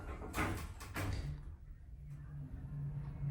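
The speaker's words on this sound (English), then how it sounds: "Close the door so we don't have to hear it." A modernized 1963 Otis hydraulic elevator door slides shut in a JCPenney store, with a rumbling, clattering rush that ends after about a second and a half, followed by a steady low hum.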